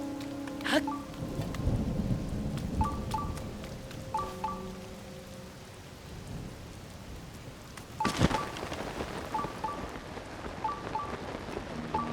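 A thunderstorm in Zelda: Tears of the Kingdom, with steady rain and loud thunder cracks from nearby lightning strikes near the start and again later, plus small repeated game chimes, with no talking.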